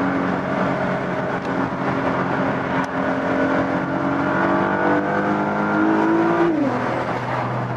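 Interior engine sound of a Nissan GT-R accelerating hard: a steady loud roar with rising tones climbing through the revs, then a quick drop at a gear change before the pull resumes, with no talking.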